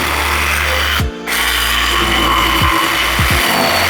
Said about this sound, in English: Just 2 cutouts with a jigsaw, just so you can see what the difference is.